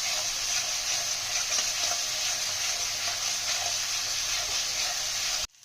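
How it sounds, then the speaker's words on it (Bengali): Cumin and coriander spice paste frying in oil for a fish curry, a dense steady hiss of sizzling close up that cuts off abruptly near the end. "জিরে গুঁড়ো ধনে গুঁড়ো কষা হয়ে যাচ্ছে"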